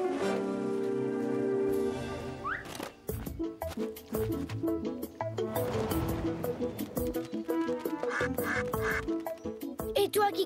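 Cartoon duck quacking in the French animated children's series Martin Matin, repeated loud squawking quacks among busy splashes, clatter and music, with character voices talking over parts of it.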